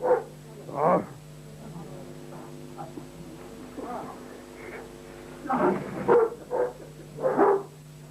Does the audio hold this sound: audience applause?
no